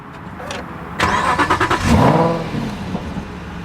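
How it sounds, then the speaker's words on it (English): An Aston Martin V8 Vantage 4.7-litre with Sportshift II gearbox fires up nearby: a starter whir, then the engine catches with a loud rising roar and a few blips before settling into a throaty idle. "Okay, so this is the Aston Martin starting up."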